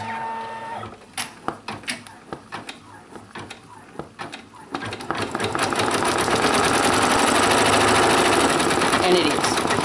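A computerized embroidery machine stitches a letter onto a rain jacket hood, its needle first ticking in scattered bursts, then settling into a loud, steady, rapid mechanical chatter that runs to the end.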